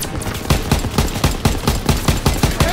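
Machine-gun fire in Call of Duty: World War II comes as rapid, evenly spaced bursts. About a dozen sharp shots crack loudly in quick rhythm with no talk over them.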